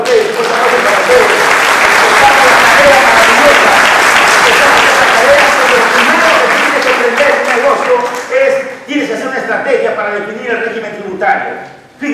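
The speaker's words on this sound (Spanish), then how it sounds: "Un fuerte aplauso para ustedes." Sustained, loud applause from an audience fills the room for several seconds, thinning toward the end as a voice speaks over it.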